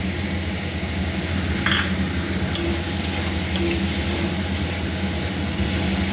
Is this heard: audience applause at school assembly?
no